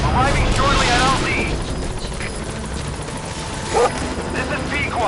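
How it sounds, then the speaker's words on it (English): In Metal Gear Solid V, a support helicopter arrives at the landing zone, its rotor chopping loud and steady throughout, with a dog barking at intervals and a few brief game sounds mixed in. "Support helicopter has arrived."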